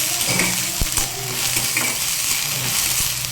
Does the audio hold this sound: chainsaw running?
no